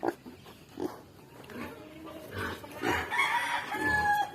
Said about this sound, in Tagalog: may alaga din kami ditong baboy